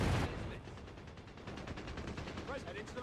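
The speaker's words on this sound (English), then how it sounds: "Artillery barrage on the way." Artillery barrage and gunfire in a video game battle, an initial loud blast followed by rapid rattling shots and distant explosions, with faint game voices underneath.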